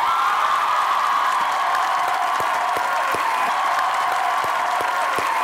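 Studio audience applause welcomes a guest onto a Pakistani TV comedy talk show, a dense, loud, continuous wash of clapping with a few cheers, no talking.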